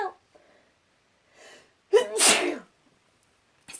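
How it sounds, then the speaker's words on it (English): A single loud sneeze, preceded by a short sharp intake of breath, close to the microphone and followed by quiet. "Oh no, I just sneezed."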